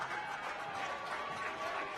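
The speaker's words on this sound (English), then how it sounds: "a round of applause to have him come off" Spectators at a girls' high school soccer game applaud a substituted player leaving the field, a steady, moderately distant patter of clapping from the crowd.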